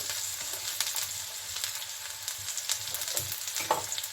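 Chopped garlic and ginger fry lightly in a pan for palak paneer, a quiet steady sizzle broken by small stirring clicks and scrapes, close and with no voices.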